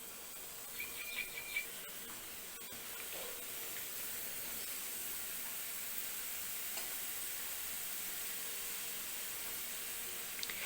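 Diwali snacks frying in oil over a flame set between low and medium, a steady hissing sizzle that holds evenly throughout with no talk, after a few soft clicks near the start.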